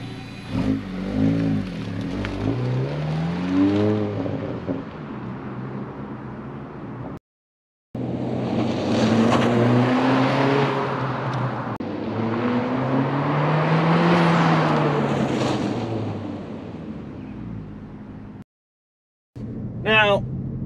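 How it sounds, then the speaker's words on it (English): An 11th-generation Honda Civic Si drives around a parking lot, heard up close as its engine rises and falls through the revs in smooth sweeps, with two short silent breaks. "See if you can get a clip of what it sounds like when it's actually driving."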